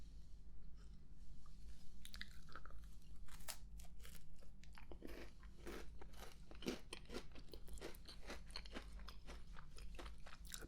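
Crunchy cookie bitten and chewed close to the mic in a quiet ASMR tea-and-coffee setting, a steady series of sharp crisp crunches repeating for about ten seconds with no talk.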